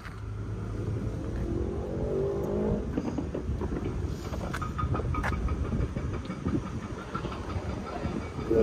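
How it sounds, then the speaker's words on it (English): A cable car climbing toward the top of the Rock of Gibraltar gives a steady mechanical rumble and hiss, with clanks and rattles from the cabin and cable, fairly loud and continuous throughout. "Abraham, we're going up in the cable car"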